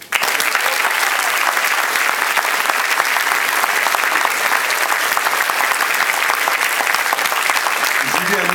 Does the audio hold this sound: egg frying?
no